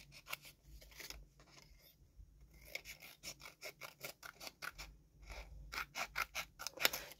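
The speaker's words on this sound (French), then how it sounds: "Je vais venir couper du coup ce qui dépasse" Scissors cutting through paper illustrations where they overlap, heard as many crisp, close snips, first scattered and then in a quick regular run, alone without talking.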